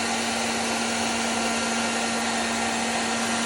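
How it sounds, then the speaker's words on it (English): A heat gun shrinking tubing during a water cooler repair, a steady loud blowing roar with a constant hum running unbroken throughout. "Heat gun."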